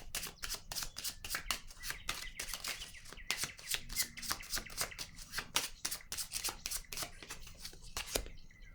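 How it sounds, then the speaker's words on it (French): Oracle cards being shuffled by hand, a quick close run of crisp riffling flicks and soft slaps repeating steadily, ending with a card set down, no voices. "je vais déposer une carte ici"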